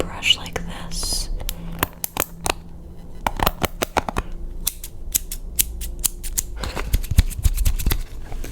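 Small scissors snipping and a brush sweeping during an ASMR haircut, with sharp close-up clicks and snips scattered throughout, soft brushing between them and quiet whispering.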